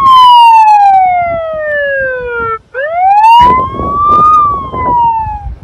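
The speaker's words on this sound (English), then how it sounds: "So I'm going to turn the siren on so we can hear it now." A handheld megaphone in siren mode wails loud and close, its tone sweeping steadily downward, breaking briefly, then rising again and holding a high pitch before falling, with no voices over it.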